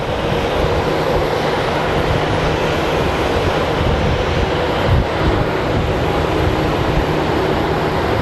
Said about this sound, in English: He's crossing, but there's a Southwest plane that is about to land.